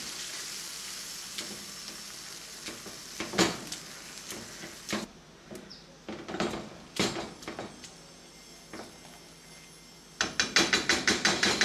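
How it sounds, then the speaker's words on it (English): Cooked beans with their broth are mashed in a frying pan to make refried beans: irregular soft thumps and squelching presses over a steady sizzle, growing into a quick run of firm strikes near the end. "I'm gonna start mashing"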